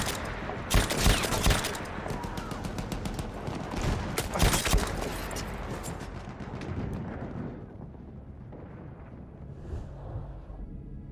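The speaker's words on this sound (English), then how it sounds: "Feindliches MG da drüben!" Enemy machine gun fire in Battlefield 1 rattles in dense, loud bursts over heavy battle noise for several seconds, then fades into a quieter, rumbling stretch.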